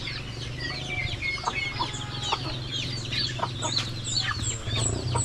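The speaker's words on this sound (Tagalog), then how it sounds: "At dito po yung mga naglimlim, may naglimlim pa dito." Hens, some of them brooding, cluck and murmur steadily in a farmyard, with overlapping calls near and farther off and a low continuous hum beneath throughout.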